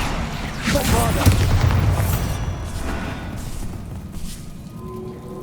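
A Bombarda blasting spell bursts in Hogwarts Legacy with a loud, booming explosion, followed by rumbling debris and a few crackling pops as it fades, with a voice shouting over it.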